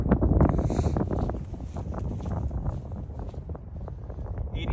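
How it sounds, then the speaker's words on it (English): Wind gusting across an open golf course buffets the microphone in a continuous roar that swells and eases, with a few faint rustles and knocks underneath. "it's right to left wind"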